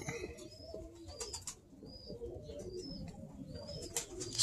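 Birmingham Roller pigeons coo in a loft, low repeated murmurs running steadily throughout, with a few faint higher chirps from other birds.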